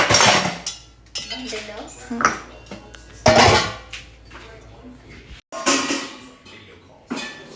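Steel dishes and utensils clink and clatter as they are stacked and put away in a home kitchen. Bright knocks and pings come close in irregular bursts, with a voice heard at times.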